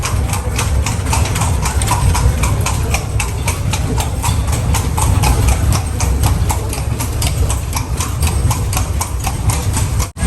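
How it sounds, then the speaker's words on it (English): A steady clip-clop of horse carriage hooves trots on and on in a regular rhythm on a street in Cartagena, Colombia, nearby, layered over a continuous low engine drone. "See, that's another horse carriage."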